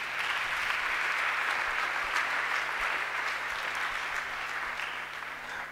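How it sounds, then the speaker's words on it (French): A church congregation at a Sunday service applauds the Lord in a dense, sustained burst of clapping that fills the room for several seconds and eases slightly at the end. "Acclamons le Seigneur."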